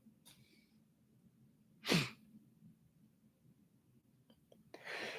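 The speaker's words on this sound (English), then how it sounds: "another sneeze recorded online, recorded live" A single sharp sneeze bursts out near the mic, loud and brief against a quiet, faint background hum, with a soft breath or rustle at the end.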